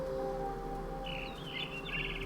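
Bird chirping in the video game What Remains of Edith Finch: a short run of high, twittering calls arrives about a second in and repeats over a steady low ambient hum.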